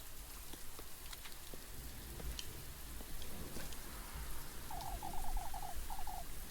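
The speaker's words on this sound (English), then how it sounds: "Running about in the rain" Steady hiss of rain falling in a video game, with scattered droplet ticks and a soft repeated hooting owl-like call near the end, constant and moderately quiet with no talk.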